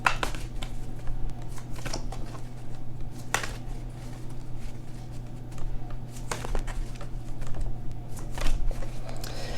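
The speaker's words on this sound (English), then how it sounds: "So let's give it a shuffle and see what happens for us." Tarot cards are shuffled in quick, crisp riffles and soft slaps, with bursts coming irregularly over a low steady hum.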